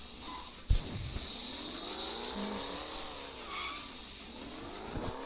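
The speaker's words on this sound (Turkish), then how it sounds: "Araba benim altımdan geçiyor." A car in a racing video game drives past underneath, with a continuous engine whine that rises and falls across the pass, a sharp thump near the start and some tire squeal. It plays alone for about five seconds.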